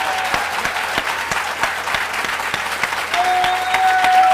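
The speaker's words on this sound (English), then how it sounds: "Let's have a hearty round of applause for all our new recruits" An audience at a military student recognition event gives hearty applause for new recruits, with many hands clapping steadily and a few sharp individual claps standing out, and a tone enters near the end.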